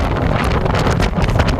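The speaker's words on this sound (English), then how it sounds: "it's really windy today" Strong gusty wind buffets the microphone of a moving 2025 Rattan LM Ultra folding e-bike on a gravel path, a loud, rumbling roar that fills the whole stretch without pause.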